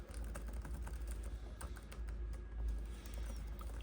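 Keys tapped on an HP Victus 16 gaming laptop keyboard, a quick run of light close clicks over a low steady hum, with no talking.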